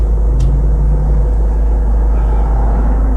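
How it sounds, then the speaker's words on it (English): A car goes by on a road during a driving test while the learner's car waits. It is a steady, fairly loud low engine and tyre rumble with no voices. "We're gonna wait for this car."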